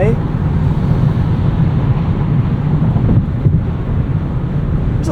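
Steady wind rush inside a 2026 Kia K4 hatchback GT-Line Turbo cruising at speed, a constant broad roar mixed with low road rumble, continuous and fairly loud throughout.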